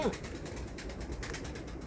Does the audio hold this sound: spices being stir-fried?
no